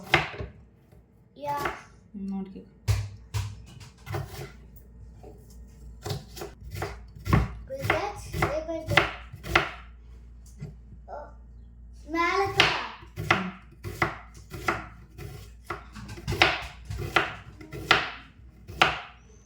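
A knife chops onions on a cutting board in a home kitchen, quick rhythmic taps repeating close by while someone talks in the background.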